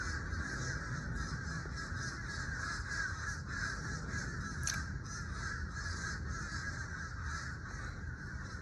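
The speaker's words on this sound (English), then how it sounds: "all of them crows came out from nowhere" A flock of crows caws over and over outdoors, the harsh calls overlapping in a steady, fairly distant chorus that runs unbroken throughout with no voices present.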